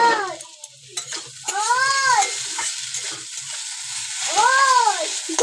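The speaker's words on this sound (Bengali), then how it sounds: "আমি সবজিটাকে ঢাকা দিয়েছিলাম সেটা একটু নেড়ে নিই" Boiled vegetables stirred in a pot, with scraping and clinking from the spoon in an uneven rhythm, broken twice by short whining tonal cries.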